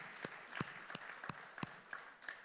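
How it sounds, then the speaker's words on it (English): Faint, scattered handclaps from an audience at a fireside chat with the Central Bank of Nigeria governor: about eight distinct sharp claps spread irregularly over a couple of seconds, sounding distant and sparse. "So please let's give a round of applause for the central bank."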